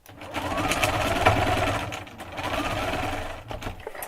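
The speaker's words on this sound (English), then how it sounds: "We're going to put this bottom piece on by sewing it to that middle purple piece" Sewing machine running steadily while stitching quilt block pieces, joining a bottom piece to a purple middle piece; a close, continuous motor whir with one short pause, no talk.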